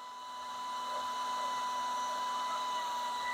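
A hair dryer runs set to low heat, a steady close whirring hiss with a faint tonal whine that swells slightly at the start and then holds constant, no voices.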